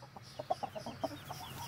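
A rooster clucks in a quick run of soft, choppy notes, fairly faint and nearby.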